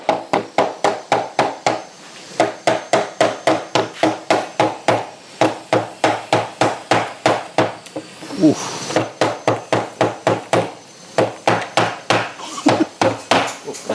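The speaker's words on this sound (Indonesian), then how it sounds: "Cara bukanya, kita menggunakan palu" Rapid, steady hammer blows on a hard object, dozens of sharp knocks in a quick rhythm, close and loud, with a brief pause partway through.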